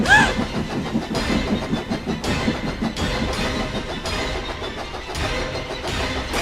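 A toy train engine in a TAOS model railway story runs with a steady mechanical engine hum, continuous and fairly loud throughout, without talk over it.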